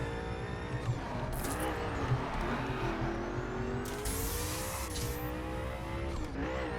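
Race car engine in The Crew racing game pulls hard and steady under acceleration, rising tones sweeping upward over continuous loud motor drone, with brief tyre squeals during a time trial lap around Laguna Seca.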